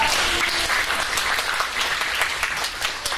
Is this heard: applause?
yes